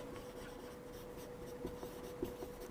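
Numbers are handwritten in a maths lesson: a pen or pencil scratches softly and close, in short strokes with a few light taps, quiet and on its own.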